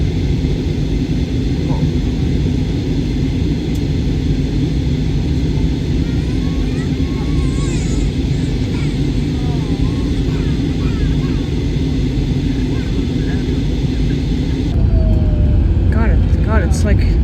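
Airplane at Tampa International Airport, a loud continuous engine roar heard from nearby, steady throughout and rising slightly near the end, with faint talk in the background.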